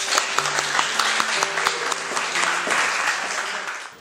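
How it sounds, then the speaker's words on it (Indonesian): A classroom of students applauds a student group, a dense burst of clapping from many hands nearby that holds steady for a few seconds and then fades out. "Mari kita beri aplaus buat kelompok ini."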